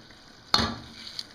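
Onions dropped into hot ghee in a pan for a chicken madfouna dish, a sudden sizzling burst that settles into a steady, soft frying hiss, close and fairly quiet, with no talking.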